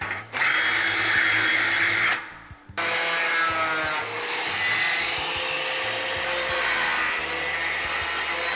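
A power drill bores out spot welds on a sheet metal rear panel for a Ford Model A, making a loud, continuous close-up grinding whine that stops briefly and then resumes.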